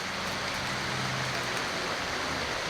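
Rain falling outdoors, a steady dense hiss of drops on surfaces, even and unbroken, fairly faint.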